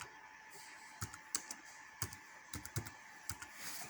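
Light typing on a computer keyboard, scattered individual key clicks with brief pauses, quiet and close over a faint steady background hum.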